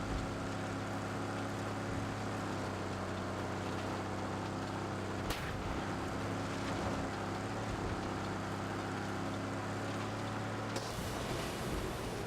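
A video game boat engine runs with a steady, fairly subdued mechanical hum and water wash, continuous throughout, with a couple of brief sharp clicks.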